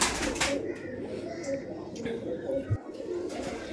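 Rampuri pigeons, a pair in a loft, give soft, low repeated coos close to the microphone while someone talks over them.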